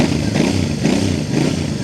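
A Royal Enfield 650 twin with a 270-degree crank revs up close by, its engine and exhaust giving a throaty pulsing roar in repeated swells, with someone talking over it.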